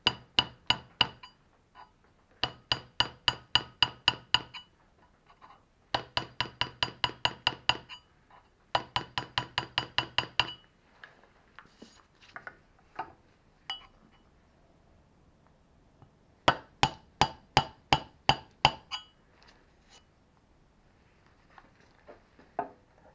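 A hand scraper chisel pressed into a metal surface makes crisp, rapid clicking strokes in short rhythmic bursts of about eight to ten, separated by brief pauses, close and clear with no talk.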